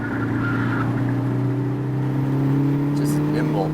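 A 2021 Hyundai Veloster N driven on a race track, steady in-cabin engine drone with a rising tone held under the road noise, while a voice talks over it.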